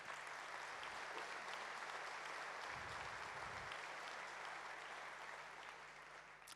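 Steady, sustained applause from a large audience at a mayor's New Year address in Vichy, dense clapping at an even level filling the whole stretch, tapering slightly near the end.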